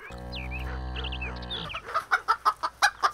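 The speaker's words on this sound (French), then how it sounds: "T'as vu cette poule, Gaston? Elle est complètement dingue." A cartoon hen lets out a drawn-out squawk over a sustained musical tone, then a quick series of about eight sharp, rhythmic clucks, close and clear.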